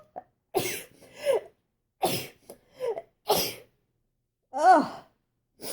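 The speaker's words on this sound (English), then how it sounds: "I'm just going to sneeze." A single person sneezes once near the end, after a series of breathy exhales and throat noises; each burst is loud and close with short silences between.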